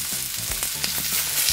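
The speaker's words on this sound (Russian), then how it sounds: "Голени и бедра прекрасно жарятся на сковороде." Chicken thighs and drumsticks fry in a pan for teriyaki chicken, with loud, close, steady sizzling and crackling and a few stirring scrapes, no voices.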